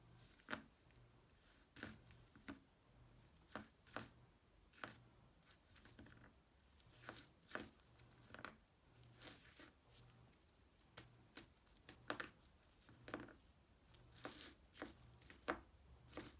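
Nickel coins from a coin roll hunt drop and clink one after another onto a hard surface, a steady run of sharp metallic taps and small jingles, close and clear with no talk.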